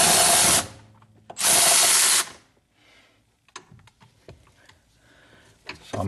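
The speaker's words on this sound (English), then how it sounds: "I'm using my power ratchet because I have one" A power ratchet spins off brake booster nuts on a 1976 Corvette, giving two loud, close buzzing bursts followed by quieter clinks and handling noises.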